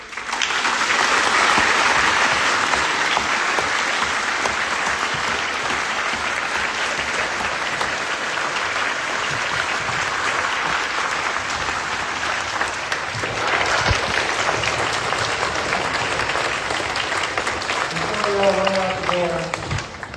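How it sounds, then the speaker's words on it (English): A town hall crowd at the University of Denver gives a long, loud round of applause, dense clapping filling the room for about twenty seconds and thinning slightly near the end as a voice starts to speak. "And can we hear a big round of applause?"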